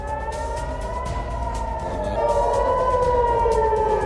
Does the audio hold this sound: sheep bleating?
no